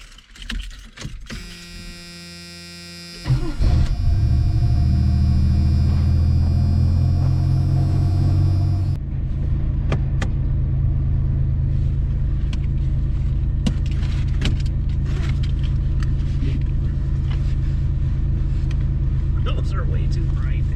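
A supercharged Pontiac 6000 starts off on a drive, with a steady loud engine rumble and road noise that builds after a brief mechanical whir and holds close throughout.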